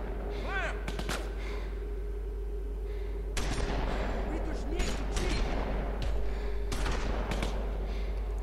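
Gunfire in The Walking Dead Season 2 video game, several loud shotgun blasts with booming bursts spread across the scene over a low game hum, a voice talking now and then.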